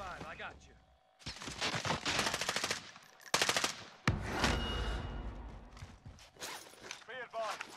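Rapid automatic gunfire from a Warzone Modern Warfare firefight, loud bursts of shots in several volleys with short gaps, close and sharp, with a player speaking between them.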